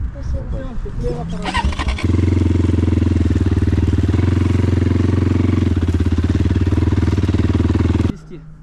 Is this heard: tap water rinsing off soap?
no